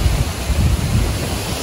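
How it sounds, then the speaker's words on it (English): A waterfall at a luxury mountain RV resort pours in a steady, broad rushing roar, close and loud for a brief moment, mixed with some wind buffeting on the microphone. "This up here is my favorite part of the waterfall."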